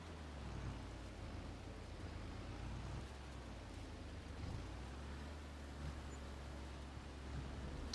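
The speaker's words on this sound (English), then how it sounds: "Here comes the rain." Steady, dense rain hiss in Farming Simulator 22 fills the whole stretch at an even level, a constant wash of falling rain with a low rumble underneath and no voices.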